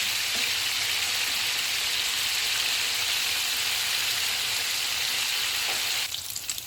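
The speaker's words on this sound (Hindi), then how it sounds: "ऑयल गर्म हो गया, इसमें कबाब रख देंगे।" Kebabs sizzle in hot oil in a pan over a medium flame, a steady dense frying hiss throughout that thins slightly near the end, close and loud with no talking.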